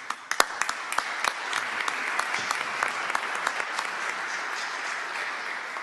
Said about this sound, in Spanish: No aplaudan antes de oír.